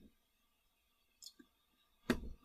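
Computer mouse clicks while a test and measurement sequence is built in OpenTAP software, a few sharp, close, isolated clicks spaced over a quiet background.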